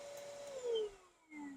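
A small handheld vacuum cleaner running while cleaning a car, a steady whining motor tone that slowly drops in pitch, fairly quiet and close, with a brief dip before it rises again.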